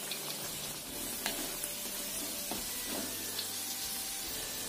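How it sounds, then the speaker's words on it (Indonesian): Shrimp frying over medium heat until golden brown, a steady close hiss and sizzle of hot oil with a few small pops, heard alone without talk. "Gunakan api sedang aja, kita goreng sampai kuning keemasan."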